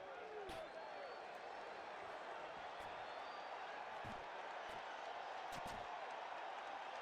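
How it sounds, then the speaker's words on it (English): Dense, steady roar of a large baseball crowd at Shea Stadium, loud and continuous throughout, with occasional sharper claps and thumps rising out of the wash of voices. "this crowd came here to make some noise tonight"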